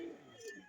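A racing pigeon gives a brief, soft coo, a short low murmur lasting well under a second with a faint breathy lift near its end.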